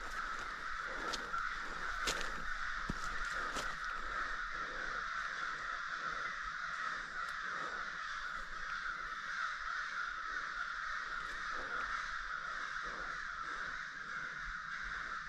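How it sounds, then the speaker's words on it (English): A whole flock of crows cawing overnight along a branch, a dense, continuous chorus of harsh caws that sounds somewhat distant and goes on steadily without letting up, with no one talking over it. "Sounds like a whole flock of crows going off or something."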